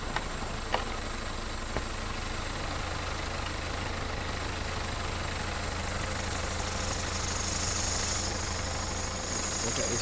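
A BMW 318d E90 diesel engine with the N47 motor idles steadily with a low hum and airy intake noise, continuous and close, with a couple of faint clicks early on.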